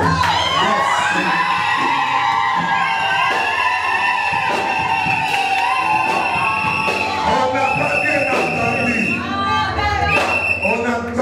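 Wedding guests cheer and whoop with cries of joy, a loud, continuous crowd roar of shouts and yells layered over music, with voices throughout.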